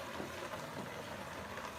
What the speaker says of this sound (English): Splashing everywhere.